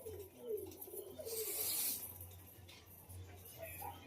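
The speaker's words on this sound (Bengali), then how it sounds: "আমার কাছে অনেক পায়রা আছে" Pigeons cooing in a loft, low soft coos repeating through the clip amid faint background voices and a brief bright clink.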